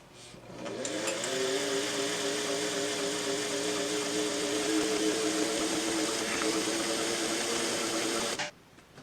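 A sewing machine runs at a slow, steady pace for several seconds, a close mechanical hum with a faint rhythmic whir, winding up at the start and stopping at the end.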